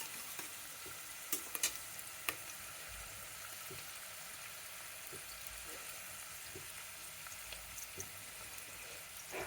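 Onions or meat browning in a pan for bagara rice and mutton kurma, a steady low hiss of frying with a few sharp spatula clicks scattered through, fairly faint and with no one talking.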